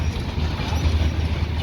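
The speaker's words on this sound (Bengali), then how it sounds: "আমার পাশ দিয়ে কত সুন্দর ট্রেন যাচ্ছে," A train rumbles past close beside a cyclist on a ride from Dhaka to Gazipur. The noise is a steady, dense roar throughout, with no speech over it.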